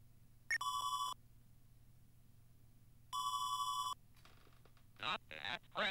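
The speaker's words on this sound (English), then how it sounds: "I would have never guessed that was the phone." An in-game telephone rings in two loud electronic bursts, each about half a second to a second long with a gap between, followed by a short muffled voice and some rustling at the end.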